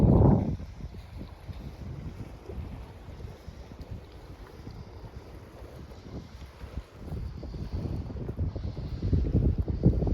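Gusty wind on a chilly morning at Lobster Lake buffets the microphone in low, rough bursts, strongest at the start and end, with a faint outdoor hiss between gusts.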